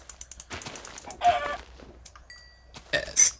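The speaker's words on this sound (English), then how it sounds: "Why must I torture these chickens?" Chickens in the video game Minecraft give a few short synthetic clucks, a brief burst early and another near the end, close and moderately loud with small digital chirps between.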